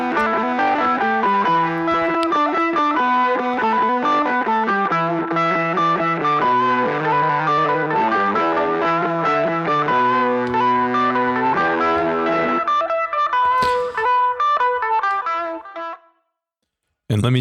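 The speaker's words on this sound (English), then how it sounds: "what you're hearing is the full guitar lick that started it all" An effects-heavy electric guitar plays a fast, busy lick with distortion and chorus, rapid notes continuing steadily before it cuts to near silence.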